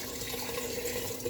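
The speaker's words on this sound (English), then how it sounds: "I'm going to dump in my liquid" Liquid pours steadily into a pot, a continuous soft splashing stream of chili broth for pork pozole, heard alone at low level.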